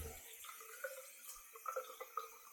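Hot water runs from a tap, a faint steady stream with small drips and clinks, close and alone.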